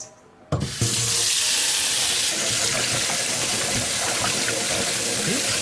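A kitchen tap runs over fresh edamame as the pods are washed, a steady close gush of water that starts abruptly after a brief quiet moment and continues alone without talk.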